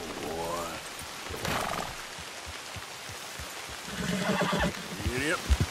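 A horse in Red Dead Redemption 2 whinnies near the start, with a second whinny and hoof clops later, over faint rain and ambient game sound; someone speaks briefly between them.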